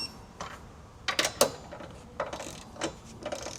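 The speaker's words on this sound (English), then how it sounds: "Torque down our factory nuts to the specified torque listed in our instruction manual." Torque wrench tightening the factory nuts on a 2026 Mazda CX-50 during installation of a hidden hitch receiver, giving rapid metallic ratcheting clicks in short bursts with a few sharper snaps, close to the microphone and quiet.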